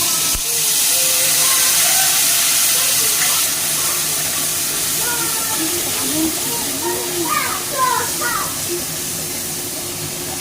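Ground spice paste dropped into hot oil with dried red chillies and bay leaves gives a loud, steady sizzling hiss that eases slightly over time, with a voice faintly underneath.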